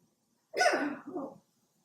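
A single sharp sneeze bursts out of near silence, a forceful blast trailing into a softer second breath.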